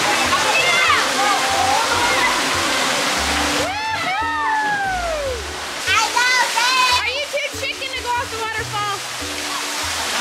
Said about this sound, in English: Dad and Trinity are gonna jump off the waterfall